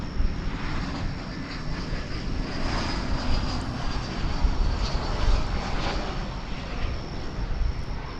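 An airplane engine roars steadily at DFW Airport, a broad continuous rumble that swells slightly midway, fairly close and loud, with no voices.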